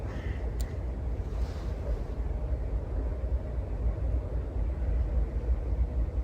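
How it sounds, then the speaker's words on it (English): A distant train engine from a train yard in northeast Ohio rumbles low and steady throughout, heard from a riverside trail, with a brief faint high chirp near the start. "if you hear that rumbling kind of off in the distance, that's from the train yard"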